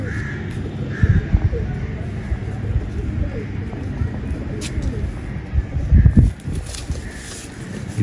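Pigeons at a home breeder's loft coo in low soft bursts, with wing flutters and scuffling close by; someone talks intermittently over the birds.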